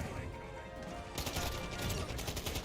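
Rapid gunfire bursts from Xenoblade Chronicles 3 game combat, a dense crackling volley that grows louder and busier about halfway through, with other game sounds mixed in.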